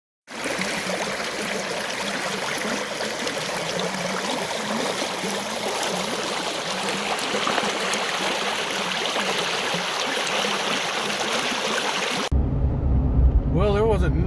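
A creek in Alaska runs steadily over rocks, a continuous close rushing and trickling that fills the scene for about twelve seconds before cutting abruptly to a quieter, different sound.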